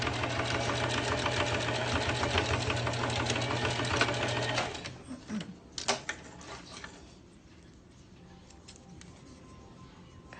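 A sewing machine runs in a fast, even mechanical whir while stitching a fabric face mask, then stops partway through, leaving a few clicks and handling knocks over quiet room tone; close-up, no talk.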